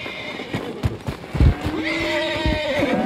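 A horse in the Red Dead Redemption 2 video game gives a long, close whinny over several sharp clip-clopping hoof strikes on hard ground.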